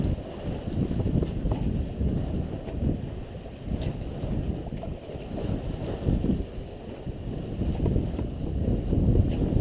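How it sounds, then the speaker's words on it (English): A sailboat running in a southerly wind of about 16 knots off North Eleuthera makes a continuous low rush of wind and water, with rough buffeting that rises and falls and no voices over it. "But yeah, I've got a southerly wind today."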